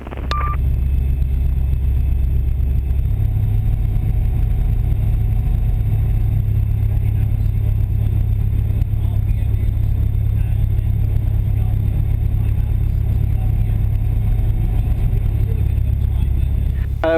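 An Aeroprakt A32 Vixxen light aircraft's engine drones steadily while taxiing for the runway, a loud, even low-pitched hum with a slight rise in tone after the first few seconds and no talk over it.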